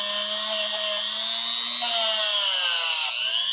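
A rotary tool whines steadily while sharpening the teeth inside a pair of Utica 50-8 lineman's pliers, a high continuous grinding tone that dips slightly in pitch near the end.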